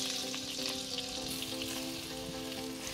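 Cubes of paneer sizzle and fry in melted butter in a pan, giving a steady, close, even crackle with no talk over it.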